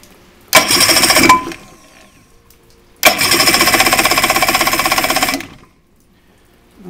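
An engine is cranked with fuel left in the carburetor bowl. It catches and fires in two loud, rough bursts, a short one and then a longer chugging run of about two and a half seconds, each followed by quiet.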